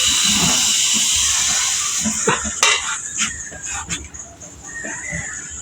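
Pitha frying in hot oil in a home kitchen, a continuous bright hiss and sizzle with clinks of a pan and utensil scraping midway, near and fairly loud, a voice briefly heard underneath.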